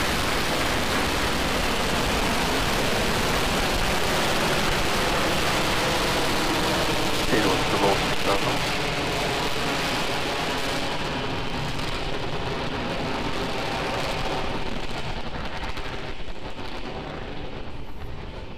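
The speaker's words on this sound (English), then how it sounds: "Ignition, liftoff" A SpaceX Falcon 9 carrying a Crew Dragon capsule lifts off from pad 39A, a dense, continuous roaring rumble that stays loud and broad for the whole stretch, with faint voices under it.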